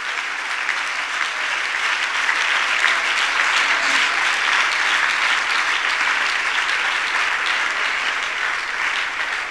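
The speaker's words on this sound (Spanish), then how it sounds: "Dele ese aplauso a Él." Steady, dense applause from a church congregation fills the space without a break, broad and even, with no voices rising above it.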